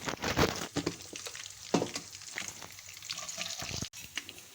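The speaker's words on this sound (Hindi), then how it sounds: "थोड़ा सा ज़ीरा ऐड करेंगे।" Whole coriander seeds and cumin crackle and sizzle in hot oil for a biryani, with irregular pops and scraping stirring sounds close up and no talking.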